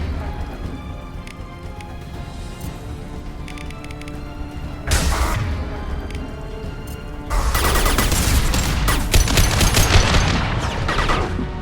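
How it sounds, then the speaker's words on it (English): Heavy gunfire in a Mass Effect 2 battle, loud rattling bursts of weapon fire that swell in intensity over a noisy combat background, with a brief intense burst and then sustained, dense firing. "Taking heavy fire!"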